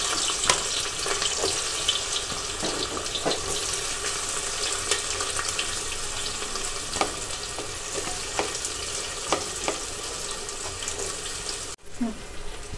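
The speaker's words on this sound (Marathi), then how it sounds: "या ठिकाणी आपलं तेल गरम झालंय। आपण त्यामध्ये सर्वात आधी कांदा घालूया।" Onion sizzling in hot oil and ghee in a pan, a loud continuous close frying crackle with scattered pops throughout, ending with a brief clatter.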